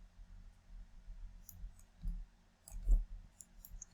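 A few sharp computer mouse clicks sound close and fairly quiet over a low steady hum, with one around two seconds and a stronger pair near three seconds.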